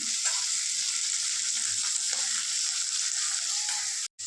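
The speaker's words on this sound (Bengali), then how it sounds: "তো এখানে মাছ ভাজা করছি, বাটা মাছ।" Bata fish fries in a pan with a steady, close, bright sizzle that holds evenly throughout before cutting out briefly at the very end.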